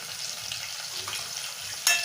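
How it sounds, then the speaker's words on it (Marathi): Dried red chillies and slit green chillies sizzle in hot oil for chole pulao, a steady close crackle and hiss with a sharper spatter near the end. "दोन लाल वाळलेल्या मिरच्या घालते मी आणि हिरव्या मिरच्या मधनं चिरून घातल्या."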